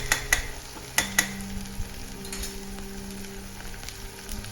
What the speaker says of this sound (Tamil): இப்போது நல்ல தக்காளி கரைஞ்சி வதக்கி எடுத்துக்கணும்.